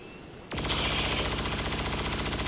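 Gunfire in the video game XCOM 2 erupts abruptly after a brief quiet moment: a loud, close burst that rolls on as a sustained, rapidly pulsing rattle of shots.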